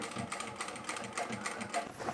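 A sewing machine runs continuously, stitching a seam on a homemade supermarket shopping tote bag, with a steady fast mechanical whir heard close up.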